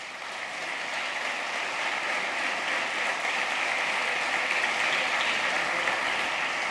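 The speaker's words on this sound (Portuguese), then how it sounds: "Você pode aplaudir o Senhor por isso?" A church congregation applauding during a sermon, a continuous, even wash of many hands clapping together that holds steady throughout without a break.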